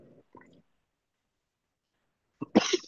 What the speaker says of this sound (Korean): 아직도 말만 하면 자꾸 기침이 나서